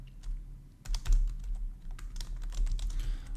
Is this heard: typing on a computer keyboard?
yes